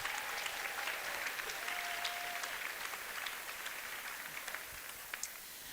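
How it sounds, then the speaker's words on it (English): Faint, steady applause from an audience at a jigsaw puzzle national championship, a dense wash of clapping held at a distance for several seconds without a break. "Give those guys a round of applause."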